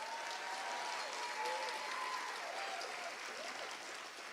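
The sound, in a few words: audience applause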